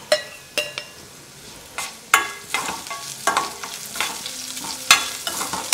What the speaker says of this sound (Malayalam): നല്ല മണമുണ്ട് കേട്ടോ, എണ്ണയിൽ കിടന്ന് മൊരിയുന്നതിൻ്റെ നല്ല മണമാണ്